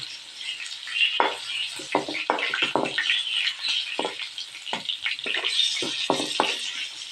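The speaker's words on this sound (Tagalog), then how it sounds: "Nagpiprito po tayo ngayon ng longganisa." Steady crackling sizzle of sweet longganisa sausages frying in oil, with bursts of popping and spattering throughout, close and fairly loud.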